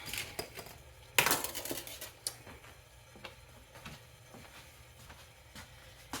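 A large whisk taps and clinks against a metal pot while stirring Malt O Meal, producing scattered light ticks and scrapes at a quiet level, close and irregular.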